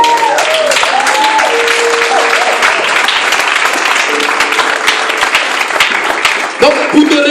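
Church congregation at a Sunday service applauding and cheering loudly and steadily, with dense clapping throughout and raised voices over it.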